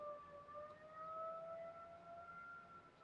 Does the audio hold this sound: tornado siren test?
yes